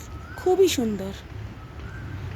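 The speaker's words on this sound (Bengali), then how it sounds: "কোকিল ডাকছে" An Asian koel calls outdoors from around a rooftop on a cool, cloudy day, its faint rising whistled notes coming from a distance while a person speaks briefly over them.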